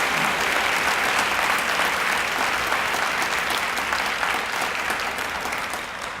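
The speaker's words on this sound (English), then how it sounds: "How about a round of applause for all of our academic achievers?" Sustained, dense applause fills a hall at a Waco Independent School District ceremony honoring senior academic achievers, steady and loud throughout before tapering slightly at the end.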